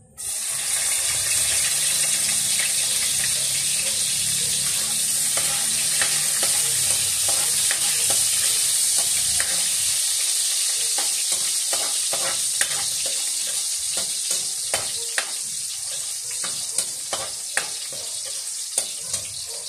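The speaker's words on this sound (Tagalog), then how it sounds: "Lagay na po natin yung ating bawang." Chopped garlic sizzling loudly in hot oil in a pan, a constant close frying hiss with scraping stirs and small clatters growing more frequent toward the end, no voices.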